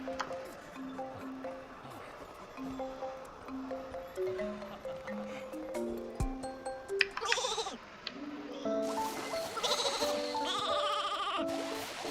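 Soft sheep bleats from the Infinity Nikki video game repeat in short rising and falling calls over a quiet backdrop, ending with brighter game chimes and effects.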